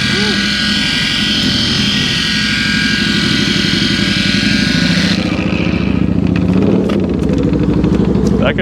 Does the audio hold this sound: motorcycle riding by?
yes